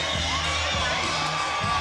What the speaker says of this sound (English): And the crowd loving every minute of it.